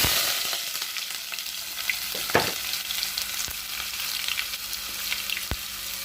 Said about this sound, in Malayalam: ചൂടായ എണ്ണയിലേക്ക് ഈ സവോള ഇട്ട് കൊടുത്തിട്ടുണ്ട്. ഇങ്ങനെ മെല്ലെ ഒന്ന് ഇളക്കി കൊടുക്കുക.